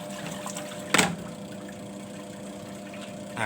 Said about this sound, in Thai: พอเราล้างเสร็จแล้วปุ๊บเราจะมาปล่อยน้ำทิ้ง แล้วก็กดตัวนี้นะครับ